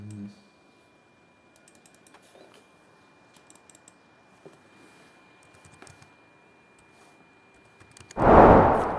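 Keys click in short scattered bursts as text is typed on a computer keyboard while working in Photoshop, quiet and close, before a loud burst of noise at the very end.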